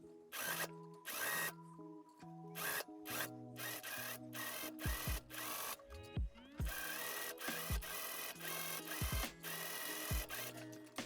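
Sewing machine closing a seam on an Edwardian-inspired winter dress, running in loud, close bursts of fast stitching separated by short pauses and handling clicks.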